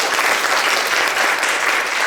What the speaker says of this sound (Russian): чтобы были аплодисменты